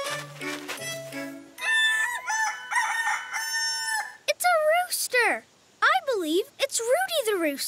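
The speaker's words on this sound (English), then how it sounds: "Roosters are male chickens that like to crow loudly." A rooster crows several times in a row, loud and close, with other clucking fowl and a voice-like bird calls mixed in.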